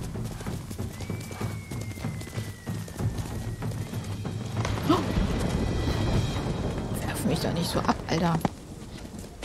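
Horse hooves in Ghost of Tsushima clip-clop at a gallop with a whinny, under a voice and game music.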